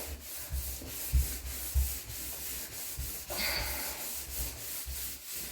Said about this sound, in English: Just scrub it again and then just take the cloth to wipe it off.